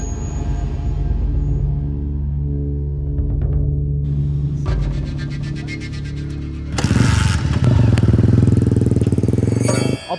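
A motorcycle engine, first a low steady idle, then a buzzy rising rev and a louder rough roar that holds near and loud to the end, no talking.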